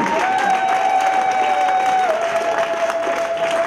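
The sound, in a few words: congregation applause and cheering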